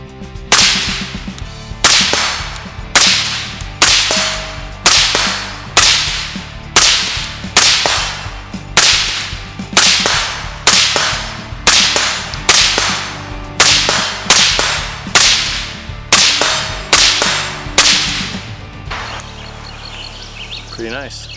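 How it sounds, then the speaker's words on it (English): Rifle shots from an Adams Arms 11.5-inch rifle fired at H.I.T.S steel targets 100 yards away, a steady string of about seventeen sharp, loud cracks at roughly one-second intervals, each with a brief ringing tail, then a quieter fade. "we're going to be shooting some ZQI out of the new Daniel Defense 32 round magazines at 100 yards"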